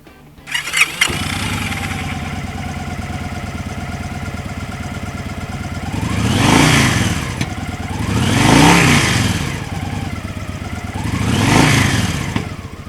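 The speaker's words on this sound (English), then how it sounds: "Here's the Victory Vegas." A Victory Vegas motorcycle on stock pipes fires up and settles into a loud, steady idle, then revs three times in smooth rising and falling swells, close and with no talking.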